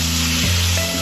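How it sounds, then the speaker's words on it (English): Beef, carrots and mushrooms fry in a pan for a beef stroganoff, giving a steady close hiss and sizzle with a faint stir partway through and no talking. "Then I chuck in the meat and the carrots and start frying it all off."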